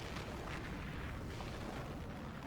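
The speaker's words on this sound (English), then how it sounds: "And there goes the petrol station." Petrol station explosion in a Resident Evil 3: Nemesis cutscene, a dense sustained roaring blast and rumble filling the whole stretch, loud and unbroken.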